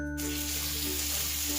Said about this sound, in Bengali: ভালো করে 10 মিনিট ভালো করে মশলাটা ভেজে নেবো